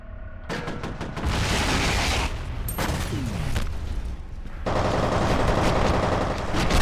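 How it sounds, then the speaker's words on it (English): Enemy gunfire in F.E.A.R. on extreme difficulty, rapid automatic shots rattling steadily through the whole stretch with loud dense bursts and heavy battle noise, no pauses. "I can't see where they're shooting from."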